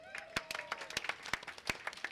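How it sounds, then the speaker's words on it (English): Audience applause at a benefit dinner: a short burst of sharp, irregular hand claps from a modest crowd, close and crisp, with some talk mixed in. "Would you give us a nice round of applause after that?"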